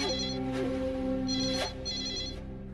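A telephone ringtone repeats as bright electronic bursts, loud and close, in a domestic scene from a Hindi TV drama, with a soft low tone running underneath.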